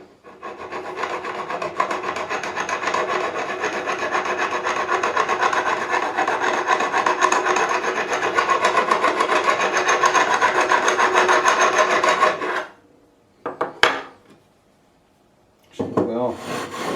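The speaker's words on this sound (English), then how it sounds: "I'm going to take a more abrasive file." An abrasive file scrapes along the frets of a 1979 Fender Stratocaster during a re-fret, making a continuous, close rasping that lasts about twelve seconds, followed by quiet, a sharp knock and brief rustling.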